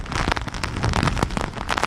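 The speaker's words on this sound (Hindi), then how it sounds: "अभी जो हवा और बारिश है" Rain and gusty storm winds lash a coastal area of Gujarat after Cyclone Biparjoy, a loud, dense, crackling roar of drops and buffeting air that pulses continuously without pause.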